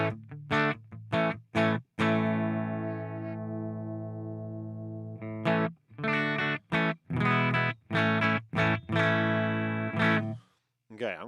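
Electric guitar played through a cloud reverb effect pedal, sustained distorted chords ringing out with a long shimmering wash, broken by short choppy stabs and brief silences, close and clear.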